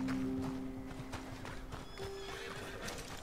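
A horse in the video game Red Dead Redemption 2 whinnies loudly and close, its neigh wavering over quick clip-clopping hooves and a dense, busy game soundscape.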